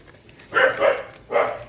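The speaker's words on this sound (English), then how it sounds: "Then that goes Dobby barking." A dog barks twice in quick succession, a pause, then a third bark, moderately close and clear with no talking.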